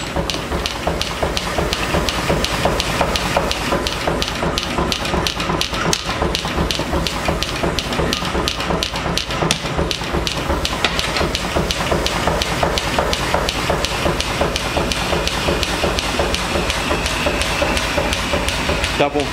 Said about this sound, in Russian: Это максимально облегчает себе труд, чтобы не руками колотить, а под молотом.